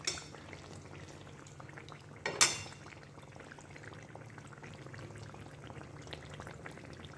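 Ripe mango malpoa batter fries slowly in a pan over a low flame, giving a quiet, steady sizzle with a single brief metallic clatter partway through.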